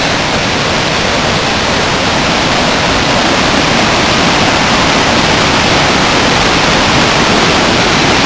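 A branch of a stream pours down in a steady, loud, close roar of rushing water, an unbroken broadband wash with no pauses and no voices.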